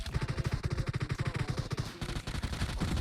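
Rapid automatic gunfire from PUBG Mobile, a dense run of loud bursts firing in quick succession for about two seconds, then a short pause before more shots continue.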